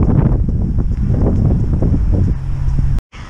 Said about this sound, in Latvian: Tik pa 5 minūtēm līst un ir vējš